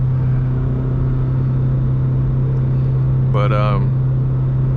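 Toyota GR86 engine breathing through an MBRP aftermarket exhaust, a steady low droning idle rumble heard close up while someone speaks briefly over it near the end.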